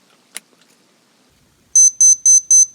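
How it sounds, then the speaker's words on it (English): Countdown timer alarm on a Timex Ironman T5K822 watch, starting after a short click with a sharp, high electronic beep pattern repeated four times in a steady rhythm, close and loud against silence. "I like the beep of the TIMEX."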